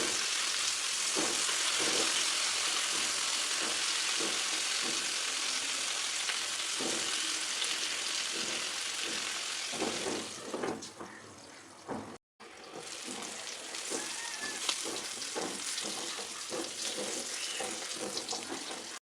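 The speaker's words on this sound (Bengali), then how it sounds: "এবার একে একে বেগুনগুলো এপাশ ওপাশ করে ভালোভাবে ভেজে নিলাম।" Eggplant slices fry in a pan and are turned one by one, giving a loud, continuous sizzling hiss with occasional scraping and clinks. A brief drop near the end is followed by more sizzling.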